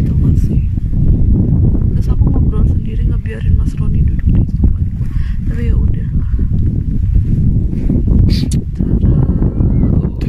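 Cold, icy wind buffets the microphone high on a mountain in Germany, a constant loud roar with gusts throughout, and a person talking under it.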